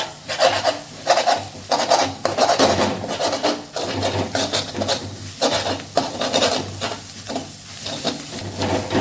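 Fried egg curry with coriander powder and spices being stirred in a pan: repeated close scraping strokes in an uneven rhythm over a soft hiss of frying, with no voices.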